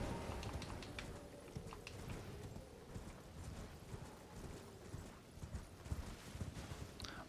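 Rapid rhythmic hoofbeats of a horse galloping in Elden Ring, quiet and steady clip-clopping that continues throughout with slight variation in pace.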